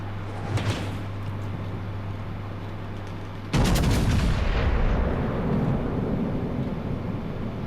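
Heavy naval gunfire in the World of Warships game, with Ashitaka HE shells and a Georgia battleship nearby, erupts as a sudden loud broadband boom midway, followed by a sustained rumbling roar over steady low engine hum.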